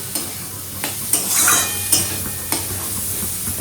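Tomatoes sizzle and fry steadily in a pan while a utensil stirs and scrapes them now and then, close by and with no voices.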